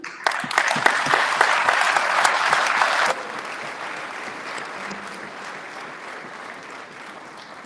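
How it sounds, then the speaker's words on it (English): Audience applause rings out after a speech, a dense burst of clapping for about three seconds that then thins into lighter, fading clapping with crowd murmur. "I know you've clapped for her"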